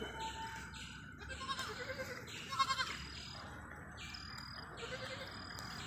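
Goat kids bleat in short, faint calls over a steady background hum, with a few bird chirps mixed in.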